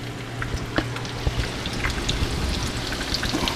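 Steady sizzling and crackling of green tomatoes frying in a pan, close and constant, with scattered sharper pops throughout.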